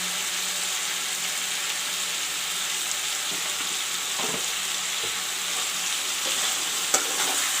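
Turmeric and chili powder are stirred into a frying drumstick curry, a steady close sizzle with scraping spoon strokes against the pan and one sharp clink near the end.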